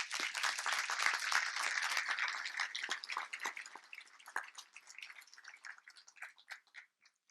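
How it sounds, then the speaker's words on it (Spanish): An audience applauds after an interview with a doctor. The clapping is dense and steady at first, then thins into scattered individual claps as it slowly fades, with no one speaking over it. "por si le quieren prolongar un poquito el aplauso"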